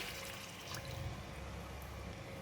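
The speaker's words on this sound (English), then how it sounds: "Just add about a quarter cup of water." About a quarter cup of water is poured into a cooking pot of stir-fried pumpkin with pork belly, oyster sauce and pepper, making a steady, soft rushing splash close by.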